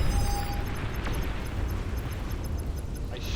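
Commander unit exploding in the strategy game Supreme Commander, a dull rumbling blast with a brief sharp crack, fading into low sustained noise, moderately loud and heard alone.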